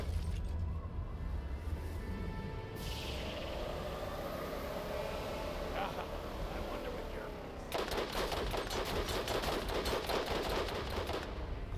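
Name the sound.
gunfire from a gun in the video game Borderlands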